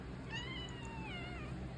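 A pet cat gives one drawn-out, faint meow with a wavering pitch that rises and then falls, set against a steady background hum.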